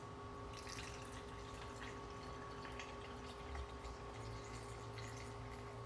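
A faint, steady trickle of liquid bubble bath being poured into a bottle, soft and continuous with a low background hum.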